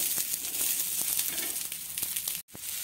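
Green chickpeas roast on a flat griddle over a low flame, giving a steady soft sizzle with faint crackles throughout and a brief dropout near the end.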